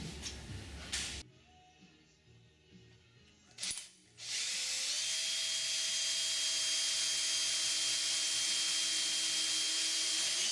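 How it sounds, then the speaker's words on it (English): A power drill bores rivet holes in the aluminum tail kit of a Sonex aircraft, with brief bursts of whirring and pauses, then a long sustained high-pitched whine held steadily to the end. "When we're all done drilling"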